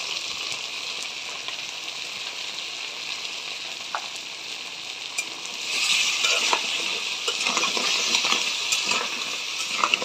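Big crab pieces fry in a pan with salt and turmeric, giving a steady close sizzle with scattered stirring clinks that swells louder and busier in the second half, with no voices.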